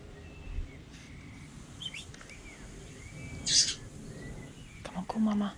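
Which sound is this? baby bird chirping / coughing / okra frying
baby bird chirping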